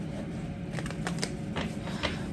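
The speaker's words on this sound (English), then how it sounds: "I want to just shuffle these cards once again." A deck of tarot cards is shuffled by hand in a few quick, papery riffling bursts over a steady low background hum.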